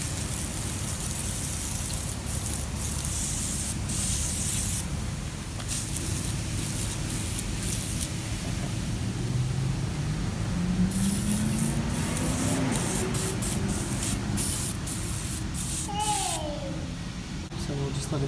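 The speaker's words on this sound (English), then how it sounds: "Shake it up, and we're gonna spray it down." Engine degreaser sprayed from a can onto a K20 valve cover, a steady broad hiss running nearly throughout with short breaks, close and fairly loud, with a few faint voice-like sounds near the end.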